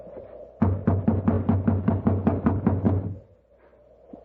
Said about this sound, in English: You just have to keep knocking till he wakes up.